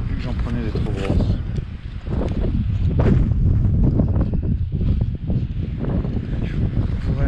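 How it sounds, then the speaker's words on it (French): Wind blows steadily and loudly across the microphone outdoors, a continuous rumbling gusty noise with faint rustling, while someone talks intermittently over it. "Il faut vraiment que j'empêche le vent de rentrer là."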